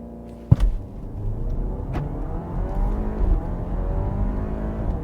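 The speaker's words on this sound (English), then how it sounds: "So if I put my left foot on the brake here and give it some gas." Audi Q5 Sportback in S mode launched hard from a standstill with brake held and gas applied, engine revving loudly up close with a sharp thump at the start and sustained strong acceleration throughout.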